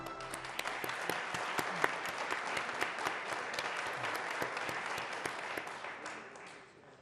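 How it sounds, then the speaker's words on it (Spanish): Audience applause at an essay contest award ceremony for a prize winner, many hands clapping with distinct sharp claps throughout, sustained for several seconds before tapering off at the end. "Muchas felicidades, un aplauso."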